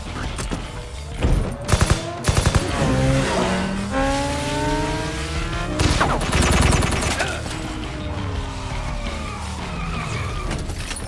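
In a Deadpool movie scene, a dense mix of screeching tires and skidding cars is heard alongside several sharp gunshots, with a clustered burst early on and more bangs later, loud and close, with brief voices mixed in.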